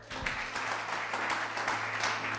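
A church congregation applauds in steady, dense clapping that carries through with no clear pauses, moderately loud and filling the room.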